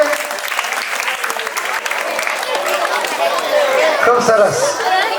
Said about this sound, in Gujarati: જોરદાર તાળીઓથી વધારીએ.